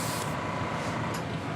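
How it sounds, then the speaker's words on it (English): Steady, continuous hiss of blue paint sprayed in a test shot onto a model, close and loud, with no talking. "So let me get this set down, and I'll spray some blue. Let me do a test shot here."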